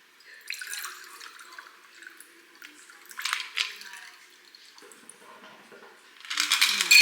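Liquid pours and trickles into a glass in short bursts while mixing a Beyoncé-inspired cocktail at home, quiet splashing with soft talk in between.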